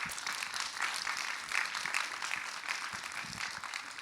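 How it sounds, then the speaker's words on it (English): Audience applause at a library's first full music concert: steady, dense clapping from a crowd heard from a distance, fairly faint, continuing evenly throughout. "Big applause to all those people who contributed."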